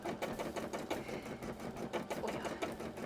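A sewing machine running steadily up close, its needle mechanism producing a rapid, even chattering rhythm with no voices.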